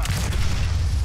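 A heavy low boom from an explosion during zombie-village combat in the video game Resident Evil 4, a sustained deep rumble lasting about a second and fairly loud.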